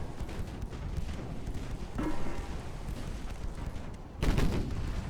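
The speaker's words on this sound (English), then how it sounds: "2-inch guns blazing away." Two-inch naval guns aboard a 1910s Italian warship keep up rapid fire in a naval warfare video game. The shots come as a dense rattling barrage with loud bursts around the second and fourth seconds, and no talking.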